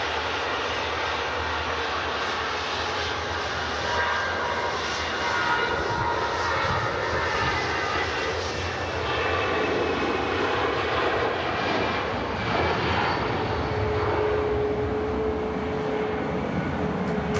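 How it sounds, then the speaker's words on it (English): An Austrian Airlines Airbus A320 on its takeoff roll gives off a steady, broad roar of jet engines from a distance that holds even for the whole stretch, with a faint rising whine near the end. "Another aircraft on the roll. Austrian A320."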